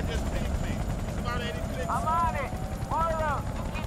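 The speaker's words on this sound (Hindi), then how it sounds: "पायलट ने हेलीकॉप्टर उड़ाया।" In the PC game Battlefield: Bad Company 2, a helicopter's engine and rotor make a loud, steady rumble, with voices talking over it.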